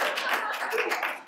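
A brief burst of clapping comes from an audience at a book talk, with a few quick hands clapping close together under a little speech.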